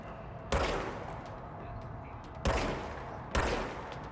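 Three sharp, loud gunshots from the service weapon in the video game Control, spaced a second or two apart, each with a booming crack and a lingering reverberant tail, heard alone without talk.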